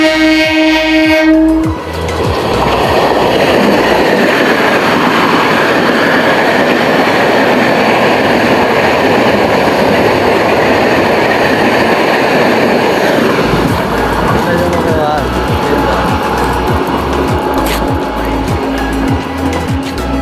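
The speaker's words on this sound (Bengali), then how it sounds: "লোকাল ট্রেন না, এক্সপ্রেস ট্রেন" An express train rushes past at high speed close by, a loud, sustained roar that fills the whole stretch, with rhythmic wheel clatter thumping through the final seconds.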